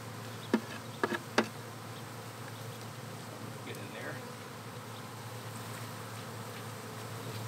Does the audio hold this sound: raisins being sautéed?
no